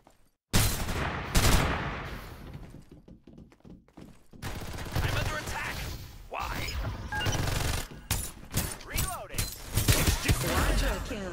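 Artillery and gunfire in the Farlight 84 video game during a team deathmatch, a loud, dense barrage of booms and rapid shots that runs almost without a break, with game voice lines mixed in.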